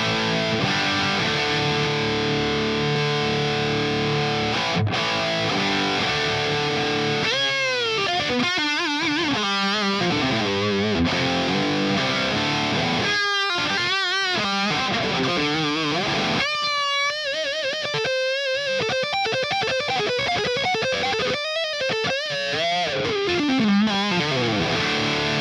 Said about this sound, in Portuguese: Esse é o drive, aí e você ligou o Tube Screamer.